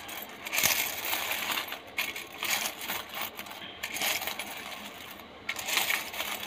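Coins are handled and dropped, a 1969 Philippine one-sentimo Lapulapu and a ten-sentimo piece among them, with several sharp metallic clinks and jingles scattered over a faint steady background, no voices.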